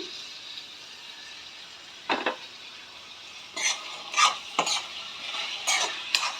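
Onions and chopped tomatoes fry in a pan under a soft continuous sizzle, broken by several sharp scrapes and clinks of a spatula stirring against the metal, close and without speech.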